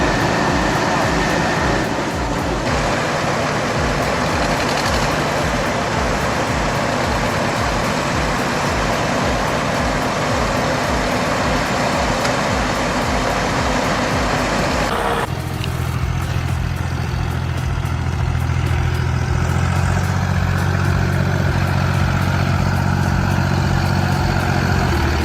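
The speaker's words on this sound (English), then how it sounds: "A white SUV fails completely in deep mud until a heavy red truck takes over. The recovery cable tightens, torque hits hard" A heavy red diesel truck strains to pull a white SUV out of deep mud, its engine a loud, rough, pulsing churn that shifts abruptly midway into a lower rumble.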